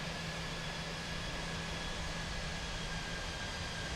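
A Jetstar airliner landing in Microsoft Flight Simulator makes a steady, moderately loud engine roar with a faint whine, unchanging across the moment and with no voices.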